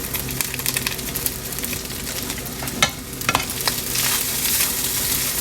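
Shrimp and rice with seasoning for colour sizzle in a pan while a utensil stirs and scrapes, with scattered clicks and a couple of sharper knocks over a steady close frying hiss.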